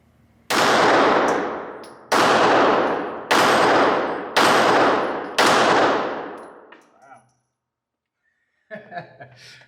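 A Glock pistol fires five shots at a steel target in a steady, evenly spaced rhythm. Each crack is followed by a ringing metallic clang that fades before the next, and a faint rattle trails off at the end.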